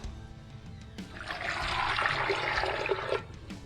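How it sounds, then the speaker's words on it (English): A jug of water being poured into a pot to make a simple syrup for poaching pears, a brief rushing splash that swells and then stops. "now I'll simply get 4 more jugs of water into there, and it makes me a simple syrup solution"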